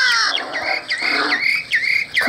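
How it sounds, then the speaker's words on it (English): Bird squawking in the forest video game Ultimate Forest Simulator, a series of sharp, loud, close calls repeated about five times in quick succession. "So I'm gonna go for this bird."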